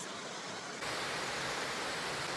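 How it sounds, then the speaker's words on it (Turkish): Steady, close roar of the Güzeldere waterfall near Düzce, a broad continuous rush of falling water that swells slightly louder partway through, with no voices. "Şelale orada."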